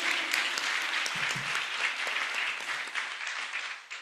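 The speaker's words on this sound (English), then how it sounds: "Can I have another round of applause for our moderator, Professor Fevzi Okumuş?" Steady applause from a tourism conference audience, dense clapping that continues for a few seconds and tapers slightly at the end.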